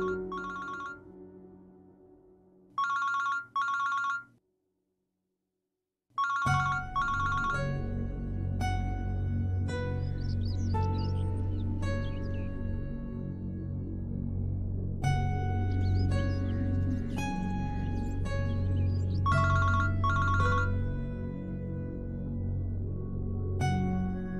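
A telephone rings repeatedly in a drama scene, with recurring electronic ringtone bursts that start alone and then continue under music and background sound.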